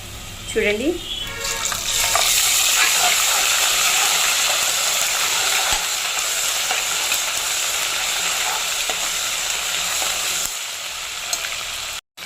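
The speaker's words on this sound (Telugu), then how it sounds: "దీంట్లో అల్లం తెల్లగడ్డ పేస్ట్ వేస్తాను." Ginger-garlic paste and onions fry in hot oil while being stirred, giving a loud, steady sizzle with scraping stir strokes throughout, cutting off abruptly near the end.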